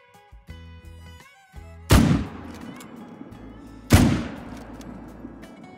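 Two loud, sharp rifle shots fired at mule deer in the hunting game Call of the Wild, about two seconds apart, each with a ringing tail over quiet ambient game music.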